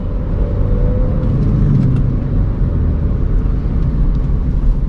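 A VW Polo GT TSI pulls in third gear around 1,700 rpm, its engine a steady, loud low rumble with road and cabin drone that holds evenly with no talking.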